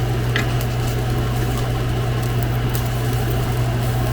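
A plant-based smash burger patty sears in a hot pan, giving a steady, continuous sizzle with a low hum underneath that holds evenly throughout, with no talking.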